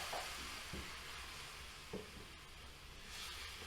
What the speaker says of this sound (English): whilst you're mixing it in, make sure to scrub your spoon across the bottom of the pan